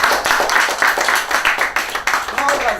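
An audience at a graduation ceremony for exam results claps for the valedictorian with rhythmic, fairly loud hand claps, while someone speaks over the applause.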